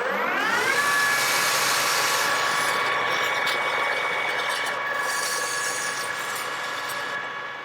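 An abrasive rubs the outside of a 410 stainless steel part spinning on a manual lathe, a steady close rasping hiss over a rising then level machine whine that fades slightly at the end.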